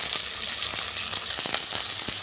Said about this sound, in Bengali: আদা রসুন বাটাটা ভাজা ভাজা হয়ে গেছে